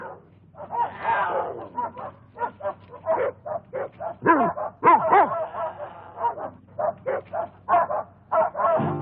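Several dogs bark and yelp in quick, uneven bursts, close and loud, the calls overlapping into a continuous excited chorus.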